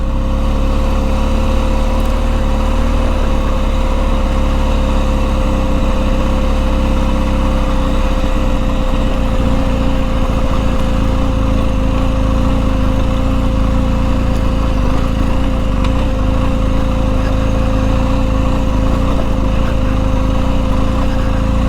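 A BMW R1250 GSA motorcycle riding a rocky trail on the Switzerland Trail near Boulder, Colorado, its engine giving a steady, loud, continuous drone with a rumbling low end throughout, with no talk.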